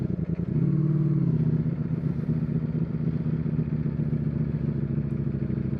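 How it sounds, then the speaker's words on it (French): A 2024 Ducati Streetfighter V4S motorcycle idles with a steady, deep, throbbing V4 exhaust note aimed at the ground, loud and close, with a slight rise in pitch near the start and no voices. "on sent l'échappement qui résonne dans nos pieds, puisqu'il est dirigé vers le sol."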